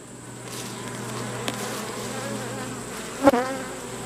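Honey bees drawing out comb in a hive fed pollen patties, a steady close buzzing hum with a few individual bees flying past near the mic.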